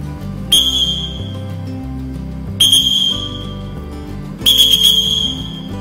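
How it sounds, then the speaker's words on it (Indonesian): Three sharp, shrill blasts from a cyclist's whistle sound close by, each held for about a second, spaced by a couple of seconds of low background hum. "Aku pakai peluit."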